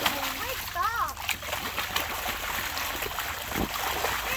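Kids splash while swimming in water inside a house, with loud continuous splashing and sloshing, and children's voices talking and calling out over it.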